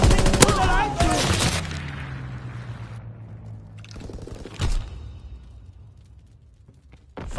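An aircraft strafing run in a console war game opens with a loud burst of rapid gunfire and impacts, then fades into lingering rumble with a few scattered later bangs.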